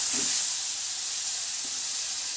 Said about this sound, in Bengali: আর এখন দিচ্ছি পেঁয়াজ বাটা